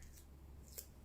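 Small kawaii scissors snip twice during a stationery unboxing, giving two quiet, crisp cuts about half a second apart against a faint, steady background hum.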